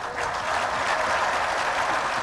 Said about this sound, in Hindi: इतनी ताली आप बजा रहे हैं